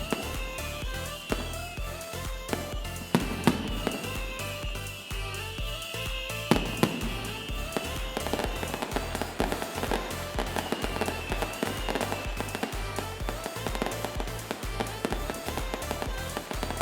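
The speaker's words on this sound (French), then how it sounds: "Ces 2 chevreuils sont complètement indifférents aux feux d'artifice du quartier." Neighbourhood fireworks on New Year's night in the Moratière district keep cracking and popping, with dense overlapping bangs and crackles at a moderate distance and no talking.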